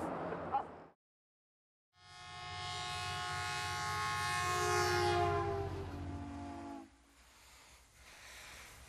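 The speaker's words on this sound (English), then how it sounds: "The Southern Pacific 4449 is certainly one of the most famous steam locomotives ever constructed." Southern Pacific 4449 steam locomotive sounds its whistle: a loud, sustained chime blast of about five seconds over steam hiss, following a brief noisy burst and a pause, then fading to rumbling background.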